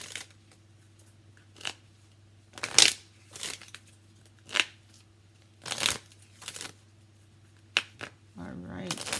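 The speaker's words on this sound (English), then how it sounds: "Let's go ahead and pull one last card for your material world." Tarot cards being shuffled and drawn from the deck, a handful of short riffling bursts spaced apart over a low steady hum, fairly close and soft.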